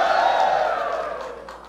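A rap battle crowd roars, shouting and cheering loudly all at once in a brief burst that fades slightly toward the end.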